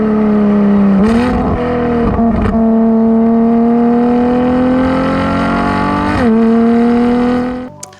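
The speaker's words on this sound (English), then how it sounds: "what this car has different to a lot of LaFerraris, or most of them, is it has a sports exhaust from Ferrari" Ferrari LaFerrari with a Ferrari sports exhaust and the roof off, its engine holding a loud, steady high-pitched note with brief gear-change dips before cutting off, very close and alone.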